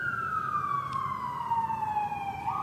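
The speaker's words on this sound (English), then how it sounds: "It's not so much because the siren's going by" Emergency vehicle siren passing outside during a sheriff's department press briefing, a steady falling wail holding clearly over background noise throughout.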